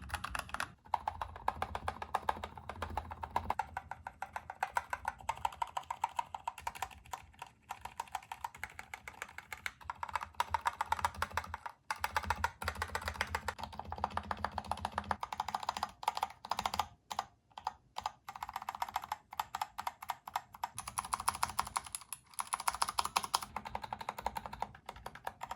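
A modded Kemove SnowFox 61 mechanical keyboard with Gateron red and green switches is typed on steadily, producing rapid, close clacks in uneven bursts with short pauses, moderately quiet and without speech.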